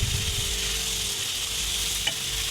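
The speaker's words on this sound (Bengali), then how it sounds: "কিছুটা নেড়ে নেব যাতে সবজিগুলো একসাথে মিশে যায়" Mixed vegetables for a bhaji fry in a pan while being stirred, giving a brief, close, dense sizzle with a sharp scrape of the spatula near the end.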